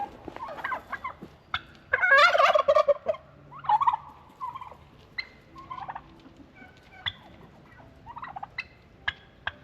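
Turkeys gobble in a garden in bursts of loud, close, rattling calls, with several quieter gobbles and clucks following at intervals and no talk over them.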